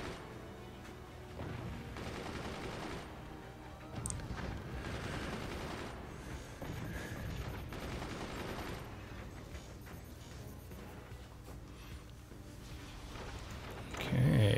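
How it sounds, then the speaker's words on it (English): Incursus sniper weapon firing in the Forts strategy game during a tournament match, with dense, loud gunfire bursts and crashes rolling almost continuously amid battle noise, and a heavy impact at the very end. "good use of the old sniper Incursus"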